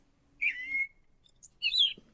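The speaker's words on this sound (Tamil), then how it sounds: "நான் வந்ததுலேருந்து குருவி உட்காந்து ஓட்டு மேலே உட்காந்து விளையாடிட்டு இருக்கடி" Sparrows perched on a tiled roof giving two short bright chirping calls separated by a brief pause, fairly close and clear against a quiet background.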